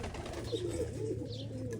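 Dönek tumbler pigeons coo softly and repeatedly, the low throaty calls close by against a quiet background with no talk.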